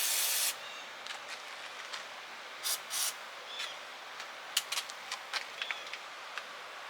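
PB Blaster penetrating oil sprayed onto rusty engine bolts in a car engine bay, a short opening hiss followed by several brief bursts of spray, fairly close.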